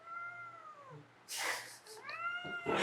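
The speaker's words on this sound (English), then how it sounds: "I think you might be doing something to the cat. She's yelling." A cat yowls and meows loudly while being held indoors, with drawn-out wailing cries followed by sharper protesting calls close to the listener.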